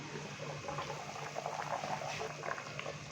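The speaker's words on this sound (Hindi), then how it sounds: "पानी को उबाल अच्छे से आ चुका है" Water and mutton stock at a rolling boil in a cooking pot for pulao, a steady close bubbling and churning that continues evenly throughout with no talk over it.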